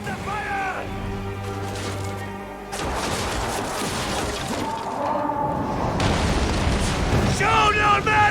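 Naval battle in Assassin's Creed Origins, with heavy booms of ship cannon fire and crashing explosions rolling over a dense, loud game soundscape. Shouted commands and voices run over the din.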